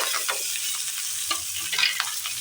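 Food stirs and fries in oil in a pan, a continuous close sizzle with scattered scraping strokes and small ticks as the spoon moves.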